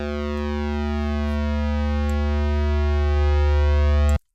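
A KORG Miami monophonic wobble synth on its init preset holds one steady, buzzy sustained tone with rich even harmonics, loud and unchanging for about four seconds before cutting off abruptly.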